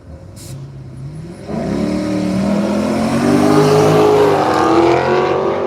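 Drag racing car at Willowbank Raceway, Australia, a quiet lead-in followed by a sudden loud engine roar that keeps climbing in pitch as the car revs and accelerates hard, sustained and close.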